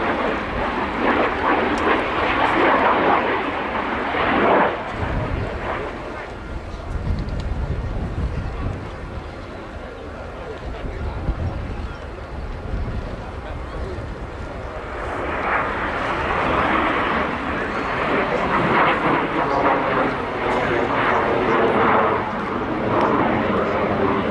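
A Messerschmitt Me262 jet performing an airshow display in the UK gives a sustained roaring engine rush that swells, dips in the middle and builds again as it passes. Wind buffets the microphone throughout.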